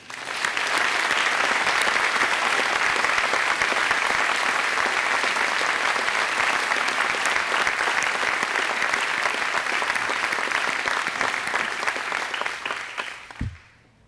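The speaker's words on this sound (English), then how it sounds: "Please join me in a round of applause for Mark Harris" A large audience at a community service breakfast applauds for Mark Harris, a long, full, even roar of clapping that carries on for many seconds and then drops away abruptly at the close.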